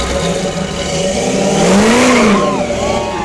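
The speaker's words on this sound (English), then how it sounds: "That's the Monte Carlo you hear right in front of us." A Chevrolet Monte Carlo with an XLER8 plate does a mini burnout at a Fourth of July parade in Park River, its engine revving up and falling back close by over the crowd's background noise.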